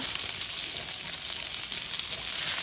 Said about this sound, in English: once the oil is ready, we are going to add in our onions here